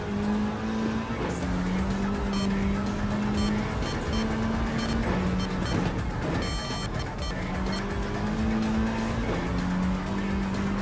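Loud, continuous race car engine in Gran Turismo 7 roaring and shifting pitch through gears, with tire squeals, steady and close throughout.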